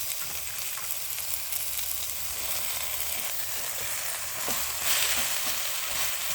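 Spinach hitting a pan of sautéed vegetables gives a steady, dense sizzle and crackle of frying that holds close and even throughout, with a slight swell near the end and no voices.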